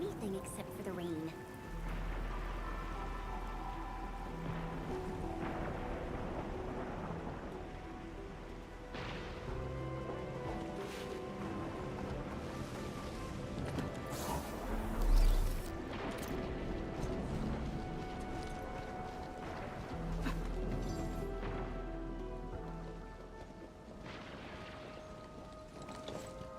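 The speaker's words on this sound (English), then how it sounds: "I can't hear anything except for the rain" Heavy rain in a video game, a steady dense hiss running the whole length, with low rumbles and a brief louder thump midway, under faint background sounds.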